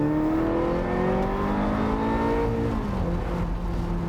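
A Ferrari 355 supercar engine holds a steady, loud, sustained drone with rising and falling engine tones and no voices.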